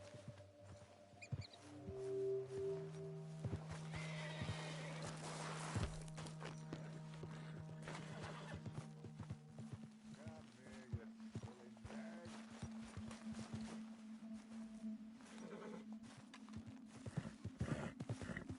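A spooked white horse in Red Dead Redemption 2 gives soft hoof clops and a whinny. The sounds are quiet and sit under faint game ambience and low tones.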